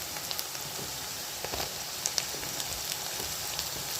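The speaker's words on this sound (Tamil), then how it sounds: "இப்போ வெங்காயம் நல்லா வதங்கட்டும்" Onions and garlic sizzle steadily in a frying pan while being sautéed for a tamarind curry, a soft, continuous crackle with small spitting pops, heard alone.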